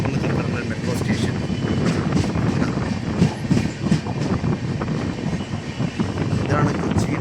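A MEMU passenger train heading to Kollam Junction rolls along the rails, with a steady rumble and clickety-clack running close and loud throughout, wind buffeting and indistinct voices underneath.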